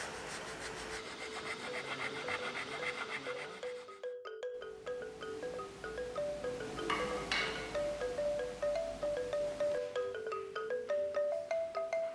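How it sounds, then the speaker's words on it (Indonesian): Sandpaper of 180 grit rubs back and forth over a carved wooden wall panel, a close, rhythmic scratching with repeated strokes, a brief pause partway through, then steady rasping resumes. "Haluskan semua permukaan ukiran menggunakan amplas nomor 180 sehingga rata dan halus."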